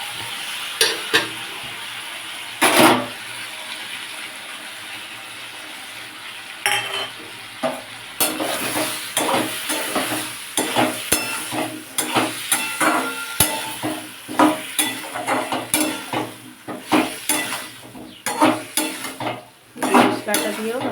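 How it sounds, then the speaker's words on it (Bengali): Spice paste with fried potato and pumpkin, tomato, salt and asafoetida is stirred in a pan for a vegetarian pumpkin and drumstick dish, giving a steady sizzle broken by repeated scraping clinks of a spatula against metal, close and fairly loud. "ভালো করে কষিয়ে নেবো আদা কাঁচা গন্ধটা যতক্ষণ না চলে যাচ্ছে ততক্ষণ মশলাটাকে কষিয়ে নেব"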